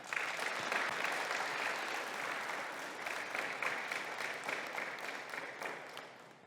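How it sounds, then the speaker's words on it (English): A crowd at a certified nurse aide pinning ceremony claps for their professor, a dense, steady round of applause heard from a moderate distance, fading slightly toward the end. "So let's give her a round of applause as well."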